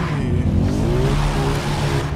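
Car engine driving in Far Cry 3, carrying medical supplies toward a flare, a steady loud drone with rising engine tone and faint tire noise throughout.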